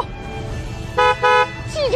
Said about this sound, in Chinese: 来听一下这个喇叭是什么声音？